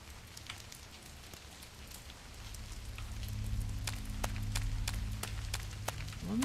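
Rain falls steadily in the video game Lamentum, a soft, even patter with scattered sharper drips. It grows slightly louder midway, over a low ambient hum.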